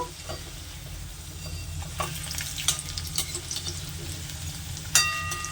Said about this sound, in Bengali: পকোড়াগুলোর নিচের দিকটা লাল লাল হয়ে গেছে। এখন উপর দিকটা ভাজার জন্য এগুলোকে উল্টিয়ে দেব।